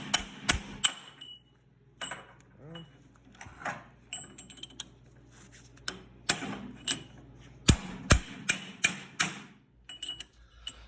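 Sharp metallic hammer strikes ring out during a vintage car rear differential rebuild, arriving in irregular clusters and a quick run of close, loud blows near the end, with clinks and workshop rustling between.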